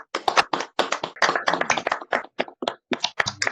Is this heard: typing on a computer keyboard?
no